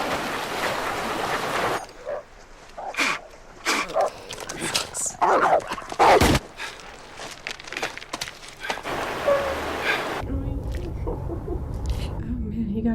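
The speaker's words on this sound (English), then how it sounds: "They got dogs too. Oh my! That dog is a beast." A dog barking in a scene from the 2007 film No Country for Old Men, heard as a few sharp barks and whimpers over watery, boat-like background sound while people talk over it.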